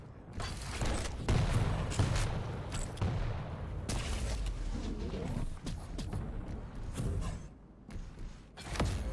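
Rocket fire in the video game Quake during an Open League elite match, heard as a dense run of loud, overlapping explosive bursts and impacts with busy in-game action throughout, and a commentator's voice faintly underneath.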